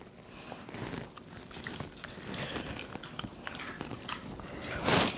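Someone bites into and chews garlic parmesan chicken wings, moist crunchy chewing sounds repeating close up with soft sniffs, no talking.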